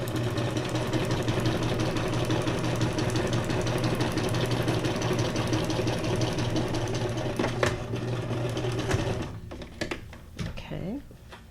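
Sewing machine stitching freeform lines through junk journal signature pages: a fast, steady mechanical whirr with rapid needle clatter, close and continuous, stopping near the end with a few handling sounds; a voice speaks.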